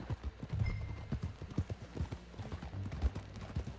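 Hooves clip-clop in a steady walking rhythm at close range, with faint voices underneath.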